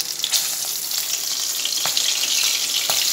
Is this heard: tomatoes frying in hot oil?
yes